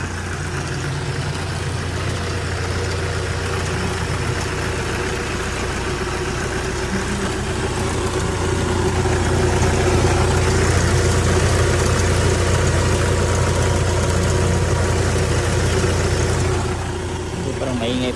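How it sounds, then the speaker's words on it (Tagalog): Low, steady engine idle of a funeral vehicle at a public cemetery, a constant rumble that swells slightly midway, with a person talking over it. "So, parang maingay po yung ating sasakyan."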